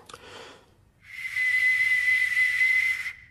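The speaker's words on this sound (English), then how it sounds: "although it's so old and it's made of bronze, it'll probably still whistle quite well." An ancient bronze Xiongnu whistling arrowhead gives a piercing, sustained steady whistle lasting about two seconds over a breathy hiss, loud and close, following a brief rushing sound.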